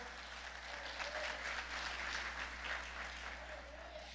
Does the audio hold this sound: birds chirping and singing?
no